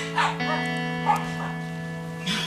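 Small dogs bark in short yapping bursts, a few quick barks heard over a steady tonal hum indoors, fairly close and loud.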